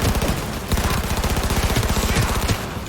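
Gunfire in Cyberpunk 2077, rapid automatic bursts rattling in a fast steady stream, loud and close, with a brief pause midway before the firing resumes.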